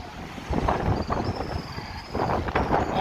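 Strong storm wind gusts and roars past the microphone in Vientiane, Laos. The blustery noise is loud and surges in waves, with leaves rustling and no talk.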